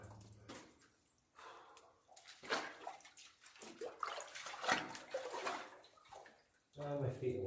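Footsteps wading into flood water deep in an underground mine, with sloshing and splashing water that swells and fades in bursts, close and fairly loud, alongside a voice speaking.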